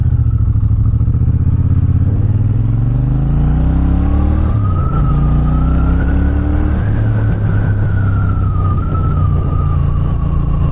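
A Triumph Bonneville T120 Gold Line motorcycle engine runs loud and close with a deep throbbing rumble that rises in pitch as it revs, while a higher steady whine drifts above it.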